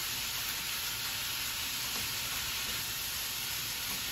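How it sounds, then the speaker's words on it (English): Ground meat sizzling steadily in a pan while being cooked through for cheesy stuffed peppers, a soft, even hiss with faint crackle, constant and unbroken, no talking. "Now I'm gonna cook this meat"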